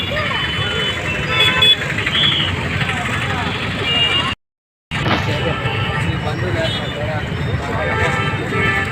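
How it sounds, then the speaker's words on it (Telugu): Dense, steady road traffic at a crowded Sunday street market in Nellore, with engine and crowd noise throughout, occasional horn toots mixed in, and voices talking over it; a brief dropout to silence midway. "ఫుల్ ట్రాఫిక్ అయిపోయింది"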